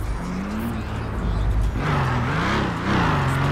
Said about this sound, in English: Maybach truck sound good, decent too, guys